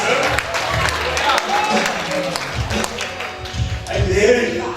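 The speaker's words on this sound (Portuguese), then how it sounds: "Você vai dar outra salva de palmas." Congregation clapping in a lively evangelical church service, a dense, steady patter of applause that runs the whole time beneath a voice speaking over it.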